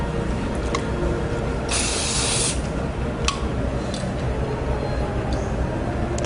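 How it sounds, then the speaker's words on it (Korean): Hair spray hisses in a steady burst of about a second onto freshly braided hair during a natural party updo, with a few shorter sprays around it, close and fairly loud with no talking. "스프레이 한번 주시고,"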